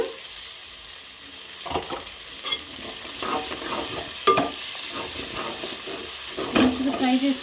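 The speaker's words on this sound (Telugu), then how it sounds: "ఇప్పుడు వచ్చేసి కరివేపాకు యాడ్ చేస్తున్నాను." Green chilies and curry leaves frying in a pan for chicken curry, a soft sizzle punctuated by sharper crackles and spatula scrapes, growing busier toward the end.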